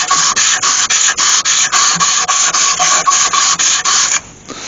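Sandpaper rasps against a wood-turned piece on the lathe, wrapped around to sand both sides at once: a loud run of quick, regular rubbing strokes that stops abruptly near the end.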